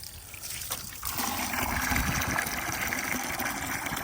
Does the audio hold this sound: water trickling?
yes